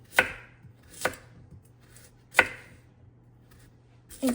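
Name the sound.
knife chopping sweet potatoes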